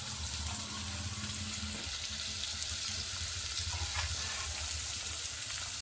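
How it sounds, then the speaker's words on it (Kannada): Green chillies and finely chopped onion fry in hot oil for rava roti, giving a continuous loud sizzle and crackle with a low background hum, close by and uninterrupted, with no voices. "ಅದಕ್ಕೆ ಹಸಿಮೆಣಸಿನಕಾಯಿ ಮತ್ತು ಸಣ್ಣದಾಗಿ ಹೆಚ್ಚಿರೋ ಈರುಳ್ಳಿನ ಒಂಚೂರು ಫ್ರೈ ಮಾಡ್ಕೊತೀನಿ."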